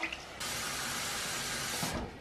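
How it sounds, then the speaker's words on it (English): Water pours into a cooking pot for rice in a home kitchen, a steady close-up rush lasting about a second and a half and ending abruptly. "We're gonna put the water, 2 cups water."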